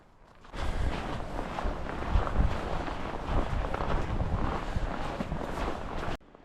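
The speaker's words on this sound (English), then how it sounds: "You can just hear the wind gusts coming through the trees." A steady rush of wind gusts roars through trees in Wyoming for several seconds, broad and fairly loud, with no voices, then cuts off abruptly.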